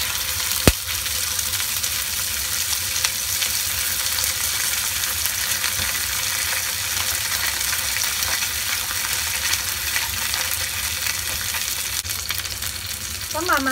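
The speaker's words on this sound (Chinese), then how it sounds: "咁將條魚煎香佢。" Snakehead fish, patted dry and dusted with cornstarch, pan-frying in hot oil in a wok, giving a steady, even sizzle that carries on close and unbroken, with a brief tap near the start.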